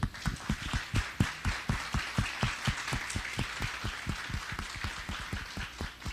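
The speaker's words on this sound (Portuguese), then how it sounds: "eu queria pedir uma salva de palmas à autora homenageada do Fliersachá, Líria Porto, que está ali." An audience at the opening of a literary festival claps in a fairly regular, rhythmic beat, with crisp individual hand claps standing out clearly from a softer crowd wash for several seconds.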